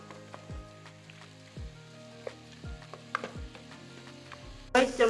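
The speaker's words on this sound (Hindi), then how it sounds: "अभी हम अपना गोश्त डाल देते हैं जो हमने उबाल के रखा हुआ था। इसको अच्छी तरह भून लेते हैं" Pre-boiled mutton frying on low heat in a pan for a bitter gourd (karela) curry, with a soft steady sizzle broken by several distinct clinks of a spoon against the pan and a louder scrape near the end.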